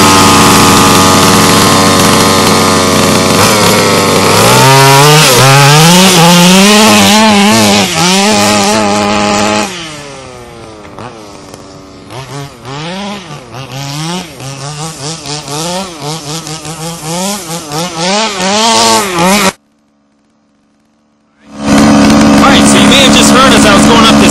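Gas engine of an HPI Racing Baja 5B RC car buzzing loudly up close, its pitch sweeping up and down as the throttle is blipped, dropping to a rough idle, cutting out briefly and then roaring back.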